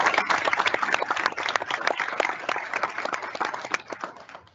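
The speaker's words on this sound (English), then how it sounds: "just give them one more round of applause" A crowd at a Women in STEM panel event gives a dense, sustained round of applause, with many hands clapping steadily and loudly throughout, the clapping tapering only slightly at the end.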